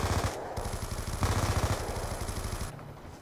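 Rapid automatic gunfire from the Black Ops 2 video game, a dense stream of loud shots lasting about three seconds before tailing off, with no talk over it.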